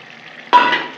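Prawns dropped into a pan of cucumber curry, a sudden loud sizzling burst after a quiet moment that fades slightly but keeps crackling to the end.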